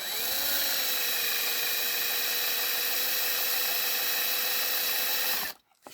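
A power drill bores steadily into a die-cast Matchbox refuse truck, a loud sustained whine running continuously for several seconds before stopping abruptly.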